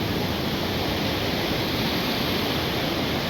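Glacier-fed stream water rushes over slippery rocks near Hatcher Pass, a steady, loud, dense roar with no pauses and no voices.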